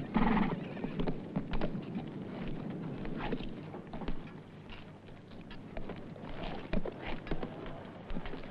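Horses whinny and snort nearby over the clip-clop of hooves, with scattered shuffling and movement throughout.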